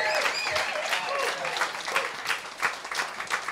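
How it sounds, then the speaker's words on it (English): An audience at a song showcase event at The Hospital Club gives a round of applause for the organiser, a steady wash of clapping at moderate level with a few louder bursts, and voices faintly mixed in. "Can we have a round of applause for Adam for organising all of this and bringing all of us together?"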